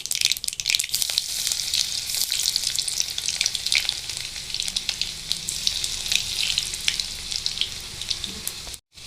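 Finely chopped garlic dropped into hot oil with crackled mustard seeds in a kadhai for Marathi methi bhaji, giving a steady loud sizzle with occasional pops and stirring, briefly cutting out near the end.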